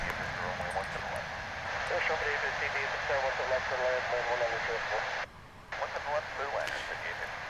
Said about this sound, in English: American Flight 612 coming in from far west Texas in El Paso, 737-800 also. Now on final approach.